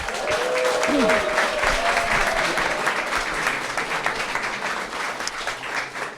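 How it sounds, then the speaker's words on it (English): An event audience gives presenters a strong round of applause, dense and steady at first and then gradually thinning, with faint voices mixed in early on. "So can we give them a round of applause?"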